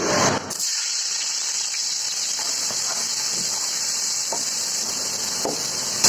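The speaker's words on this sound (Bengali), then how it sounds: "পেঁয়াজটা একটু ভেজে নিব" Chopped onion fries in a large pot of oil for a big batch of khichuri, making a loud, even, close sizzling hiss that starts abruptly and holds steady throughout.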